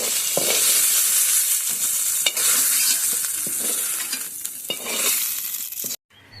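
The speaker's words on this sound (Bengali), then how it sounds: "আমার চিকেনটা ভাজা হয়ে গেছে, এবার এটা নামিয়ে নেব" Chicken frying and sizzling in a pan for egg chicken chow mein, a loud continuous crackle with scraping stir strokes throughout, stopping abruptly near the end.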